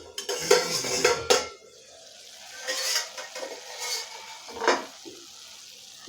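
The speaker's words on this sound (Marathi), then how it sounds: "मटकी थोडीशी हलवून घ्यायची आहे" A lid clatters off a pot of sprouted moth beans cooking over low heat, followed by a metal spoon scraping and stirring the beans in several short, close bursts separated by quiet gaps.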